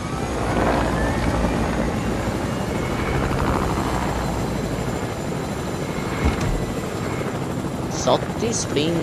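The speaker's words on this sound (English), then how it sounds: "Do you want to get the new helicopter?" A helicopter in the video game Fortnite drones with a steady, loud rotor and engine wash throughout, masking other game sounds, with a few faint chirps and clicks near the end.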